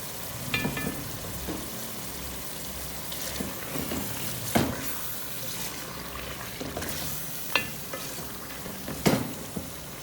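Chicken tikka biryani masala fries in a pot with a steady low sizzle, broken by several sharp scraping clacks as it is stirred, close and alone without talk.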